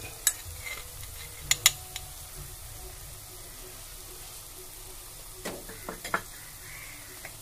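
Two spoons of coriander powder frying in a pan with browned onion, ginger and garlic for a fish curry, a faint low sizzle broken by a few sharp spoon scrapes and clinks, close and quiet with no talk.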